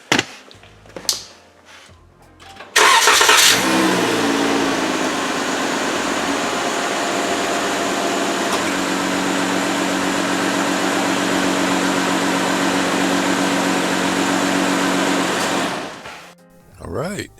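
After a few clicks and handling noises, a car engine cranks and catches, repaired after a rough idle and P0302 cylinder-two misfire, then settles into a steady, even idle for over ten seconds before shutting off, with brief talk at the edges.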